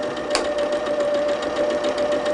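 A sewing machine stitches quilt seams with a quarter-inch foot and a small 2.0 stitch length, producing a steady, close mechanical whir with a fast, even rhythm throughout.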